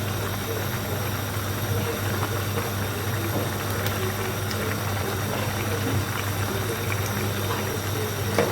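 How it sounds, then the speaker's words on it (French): Lasagne meat sauce with tomato paste simmers in a pot, a steady, even bubbling hiss with a low hum beneath, continuous and unchanging throughout with no talk. "On va laisser mijoter comme ça pendant 15 minutes."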